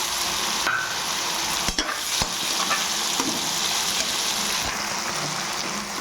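Black chickpeas fry in a pan with green chilies and tomatoes, giving a steady, loud sizzle that runs throughout, with a few sharp clinks of stirring against the pan.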